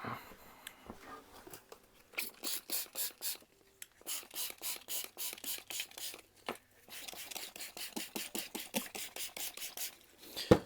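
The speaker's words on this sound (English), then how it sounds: "So all I'm doing is just giving it a spray with brake and clutch cleaner." Repeated short hissing bursts of brake and clutch cleaner sprayed on a part from a 1973 Bond Bug, several quick squirts in a rhythmic series with brief pauses, close up and fairly quiet.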